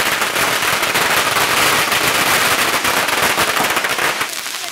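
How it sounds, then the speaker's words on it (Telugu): Firecrackers bursting in a dense, continuous barrage of sharp crackling pops, loud and close, sustained throughout with no pauses. "టపాసులు పడుతున్నాయి"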